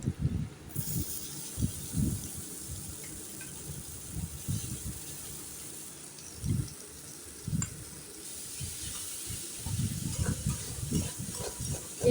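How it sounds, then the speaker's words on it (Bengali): Green chillies and onion frying in a wok for chow mein, a soft continuous sizzle with intermittent scraping stirs, moderately quiet and steady with no talk. "লঙ্কাগুলো কড়াইতে দিয়ে দিলাম।"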